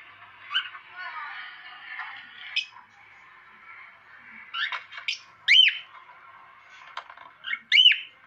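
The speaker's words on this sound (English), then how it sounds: "watching another birds whistling in a mobile phone on YouTube" Birds chirp and whistle in short, tinny bursts, thin and band-limited like phone playback, with scattered squawks from caged cockatiels and quiet gaps.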